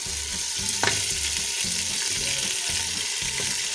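Beef and bones frying in a pot, a steady close sizzle with rhythmic stirring scrapes repeating throughout.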